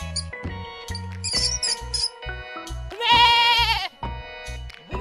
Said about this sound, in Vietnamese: con dê,